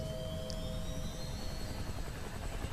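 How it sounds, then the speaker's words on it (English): A helicopter in the video game Kane and Lynch 2, a steady loud rotor drone holding continuously with a few faint high tones above it. "Shaky cam helicopter."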